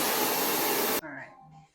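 A hair dryer blows hard and steady at close range while drying bleached, highlighted hair in a salon, then abruptly shuts off, leaving a brief moment of quiet talk.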